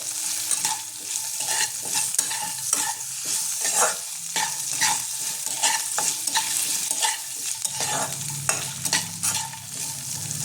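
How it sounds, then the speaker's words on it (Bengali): Steady sizzling of food frying in a pan for sabudana khichuri, with repeated scraping clicks of a spatula stirring throughout; no voices. "একটু এটা ভাজা ভাজা করে নেব।"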